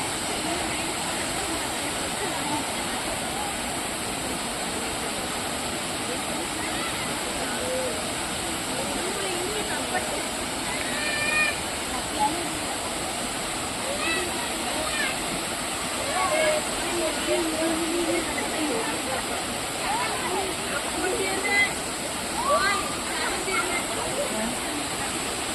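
Thommankuthu waterfall near Thodupuzha, Kerala, seen in a low-rain season, gives a steady broadband roar of falling water that stays constant throughout, with faint voices of visitors now and then beneath it.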